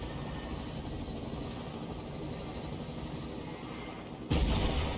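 Helicopter rotor and engine drone from a game demo in Unreal Editor for Fortnite, a steady broadband thrum holding throughout, swelling louder in the last second.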